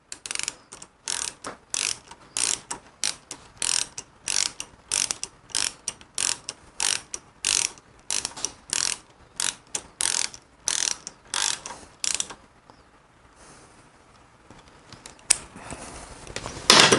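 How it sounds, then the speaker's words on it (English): A torque wrench ratchets in fast repeated bursts of sharp clicks while tightening Harley-Davidson fork parts, about twenty strokes in a steady rhythm, then a pause and a final louder clatter near the end. "Did you leave it set on the torque wrench, Mike?"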